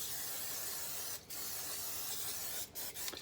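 Olive oil spray hisses onto smoked BBQ chicken in a long continuous close burst, broken by two brief pauses near the end before resuming.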